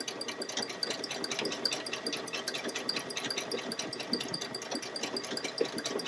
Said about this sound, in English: The machine should stop again.